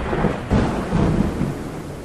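A thunderstorm: dense rolling thunder rumbles with steady rain hiss throughout, loud and continuous, no voices.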